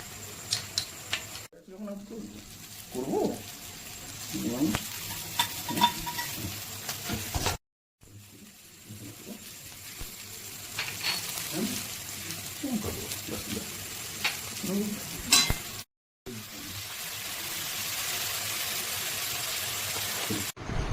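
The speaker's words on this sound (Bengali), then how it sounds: "হালকা নুন এবং হলুদ দিয়ে সেটাকে নাড়াতে থাকলাম যতক্ষণ না রঙটা হালকা লাল হয়ে গেল" Garlic, ginger, chilli and chopped coriander with salt and turmeric fry in a pan for a fish ball mixture, a steady sizzle broken by scraping stirs and utensil clinks, with speech over it and two short silent breaks.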